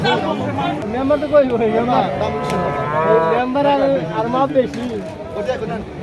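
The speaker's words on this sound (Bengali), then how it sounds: "প্রচুর পরিমাণ গরু আসছে" Cattle low loudly and repeatedly at the Manikganj cattle market ahead of Qurbani, several long moos overlapping with a background babble of people talking.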